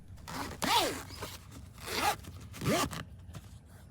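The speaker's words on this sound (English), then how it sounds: "Once we're done, we can zip up the liner." A luggage liner zipper is pulled shut in several quick, close strokes, each a short rasping zip separated by brief pauses, with no talking.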